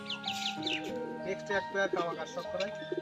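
Pakistani bloodline pigeons coo in soft, repeated bursts close by, mixed with chirps and other bird calls, while people talk over them throughout.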